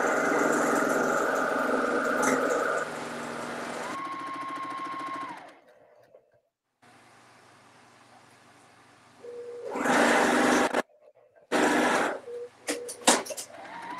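A sewing machine stitches a row seam on a patriotic churn dash quilt, running steadily for several seconds, pausing, then starting again in short close bursts.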